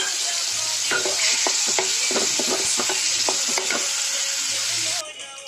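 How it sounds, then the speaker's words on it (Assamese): Fermented bamboo shoot (khorisa) fries in oil in a pan, a close steady sizzle broken by repeated stirring scrapes and clinks, ending abruptly near the close with no speech. "এতিয়া মই ইয়াতে খৰিচাখিনি দি অলপ দেৰি ভাজি ল'ম।"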